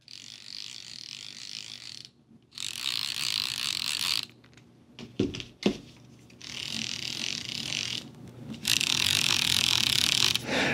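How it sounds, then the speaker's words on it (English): Drag on a Zephyr baitcasting fishing reel clicks out in rapid ratcheting bursts, loud and close, broken by short pauses and a few handling knocks. "the Zephyr drag system sounds a lot louder than this guy here"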